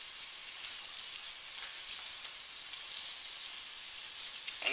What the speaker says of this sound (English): you're just going to cook these shrimp about 2 minutes on either side